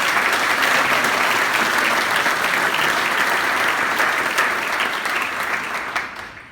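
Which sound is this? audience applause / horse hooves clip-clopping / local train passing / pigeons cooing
audience applause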